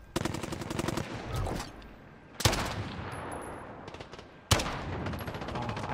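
Gunfire in the video game Modern Warfare, with three bursts of rapid automatic fire that start abruptly and trail off, loud and close, and no talking.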